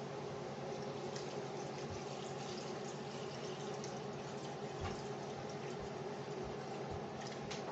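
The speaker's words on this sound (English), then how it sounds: "Okay, so now let's add water." Water pours steadily into a pot of pig's feet for a Cuban-style stew with chickpeas, a faint continuous splashing and filling sound with a few soft knocks, no talking.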